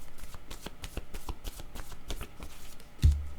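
Tarot cards are shuffled close by in a fast, rhythmic riffle of papery flicks for several seconds, ending in a soft thump as the deck settles.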